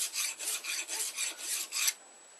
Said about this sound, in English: filing the top of the jaws on the vise.